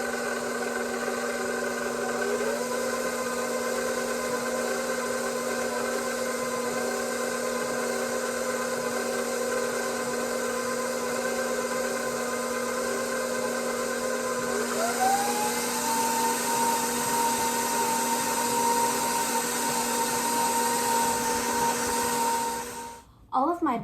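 An electric stand mixer beating butter into Swiss meringue buttercream for a Halloween cake, making a loud, steady motor whir with a faint pitch rise partway through before cutting off abruptly at the end.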